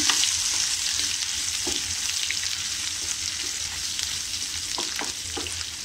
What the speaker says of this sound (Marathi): व्यवस्थित असं ढवळून घेऊया